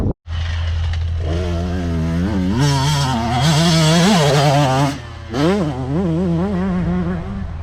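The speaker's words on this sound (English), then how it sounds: "he's getting a ton of wheel spin back there" A motocross motorcycle rides with heavy rear wheel spin, its engine loud and close, revving up in rising surges, dipping briefly, then climbing again.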